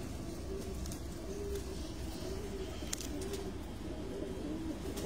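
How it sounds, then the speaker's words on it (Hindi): Pigeons coo steadily in repeated soft, low phrases, several birds overlapping on a rooftop in Sukkur, Pakistan, against a constant background hum. "गहराई में उड़ने वाले कबूतर जी"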